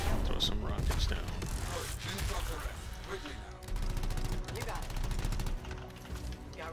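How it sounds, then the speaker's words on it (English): Rockets fired in the video game Anthem, a dense volley of rapid bursts and blasts with mechanical whirring underneath, loud and continuous while someone talks over it. "Let's throw some rockets down."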